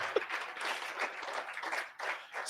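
An audience at a student health event claps on cue, a steady, moderately loud patter of applause that rises again briefly near the end.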